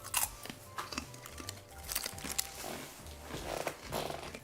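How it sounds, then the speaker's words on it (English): A sweet corn snack is crunched and chewed close to the microphone, with repeated crisp bites and grinding over several seconds and no speech. "This is crunchy. This is sweet corn, and I dig it."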